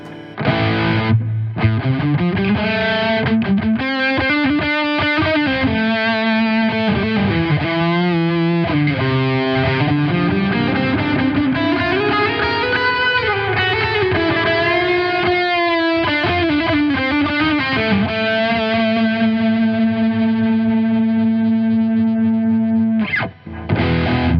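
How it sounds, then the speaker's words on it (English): An electric guitar plays a continuous melodic line through a reverb patch on a Zoom G1Xon pedal, notes ringing and blending into a wash of sustained tone, with no talking. "Next patch is reverb."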